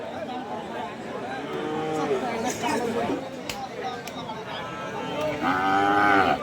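Bulls and calves at a cattle market give several drawn-out, nearby moos, one after another, over a background of people chattering.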